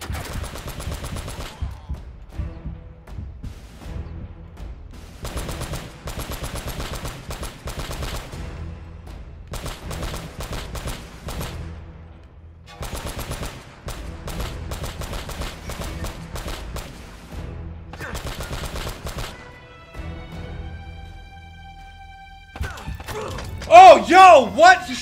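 Rapid turret machine gun fire from an Uncharted game rattles in long bursts separated by short pauses, loud and up close, with a brief voice near the end.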